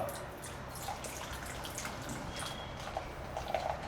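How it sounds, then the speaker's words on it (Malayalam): Beer, about 400 ml, poured into a bowl of pazhampori batter, a faint liquid trickle and splashing that runs steadily with small drips and a few brighter glugs near the end. "നമ്മുടെ പ്രധാനപ്പെട്ട ഇൻഗ്രീഡിയൻറ്റ് ഇതിലേക്ക് ഒഴിക്കാൻ പോവാണ് ബിയർ"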